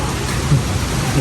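Heavy rain pouring down in a dense, loud, steady hiss across a brief moment, with no talk over it.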